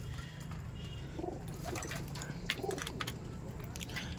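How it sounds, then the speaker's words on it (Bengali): Teddy pigeons in a loft give a few soft, low coos over a constant dull background hum, with quiet rustling between the calls. "এগুলো সব ওড়ান টেডি পায়রা আছে, বাচ্চা পাঠা পায়রা আছে।"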